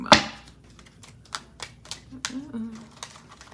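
Tarot cards being shuffled in the hands, a run of quick papery riffles and soft card slaps, close and fairly faint, with a voice briefly audible between them.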